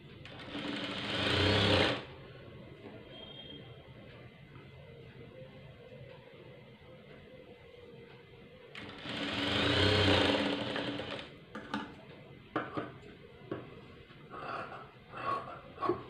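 A sewing machine stitches piping for a saree in two short, fast whirring runs, close and moderately loud, separated by quieter fabric handling and faint breathing, with light clicks toward the end.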